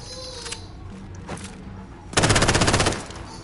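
Video game gunfire during online play: a few scattered clicks and shots, then a loud rapid automatic burst lasting under a second, with no talk.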